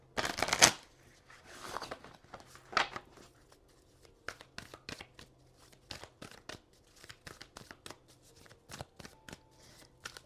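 A deck of oracle cards is shuffled by hand, a few sharp riffling bursts followed by a string of quick, close papery flicks and taps.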